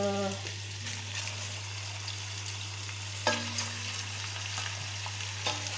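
Duck legs sizzle and crackle in a hot pan, a steady close frying hiss with a low hum beneath, broken by a few soft clatters of stirring.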